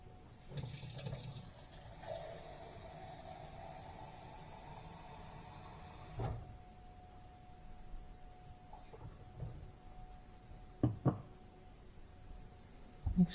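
Water runs steadily from a tap for about six seconds, a broad rushing hiss that stops abruptly, followed by a few light clinks and handling sounds.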